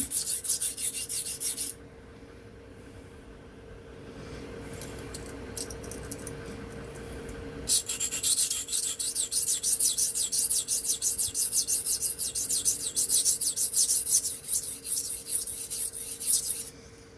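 A Remington Barlow knife blade rasps across a 120 grit Gritomatic sharpening stone in a loud, close run of gritty strokes, pauses briefly into quieter scraping, then resumes with steady, vigorous grinding.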